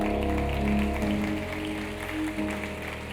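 A church congregation claps for several seconds as a steady wash of applause, with sustained music tones running underneath throughout.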